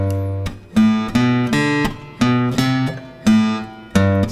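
Acoustic guitar picks the last two measures of the first phrase of a song, a sequence of clear plucked single notes and short bass-and-melody patterns in a gentle rhythm, close and alone.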